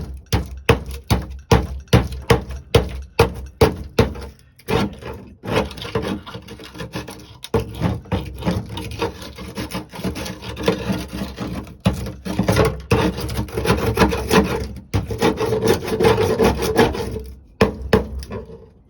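A screwdriver scrapes and jabs at a rusty car floor in a G-body car, with a rapid run of sharp knocks followed by irregular grinding scrapes and thumps, close and fairly loud.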